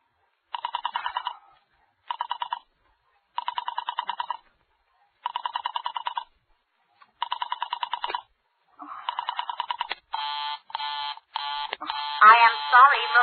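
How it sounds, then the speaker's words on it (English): An old dialed telephone line gives a busy signal: a series of evenly spaced short tone bursts, moderately loud, followed near the end by a voice speaking over further tones. "I am sorry, Murray Hill 40098 is busy."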